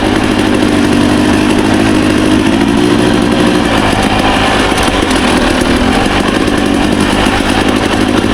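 Motorcycle cruising in second gear along a rocky, exposed trail in Idaho, its engine droning loud and steady without pause, no talking.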